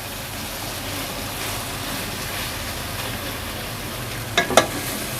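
Okra hits a pan of frying tomatoes with a steady, dense sizzle that holds evenly throughout, with a couple of sharp utensil clinks near the end.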